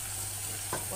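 Meat being stirred in a pot for an okra and meat tagine, a soft steady sizzle running throughout with a brief scrape or clatter near the end.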